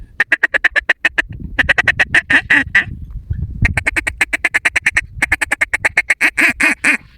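Rapid runs of loud, nasal quacks blown on a duck call in long descending sequences, several bursts separated by brief pauses, close and clear.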